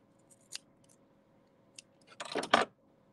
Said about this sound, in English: So we'll just snip that off.